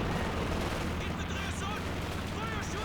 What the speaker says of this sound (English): But Bazooka teams are opening fire with AT grenades.